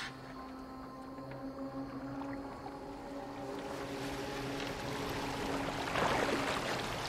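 A boat in Assassin's Creed Valhalla moves across the water with a steady low engine-like hum, sustained tonal drones, wind and water wash that swells toward the end, with no talk.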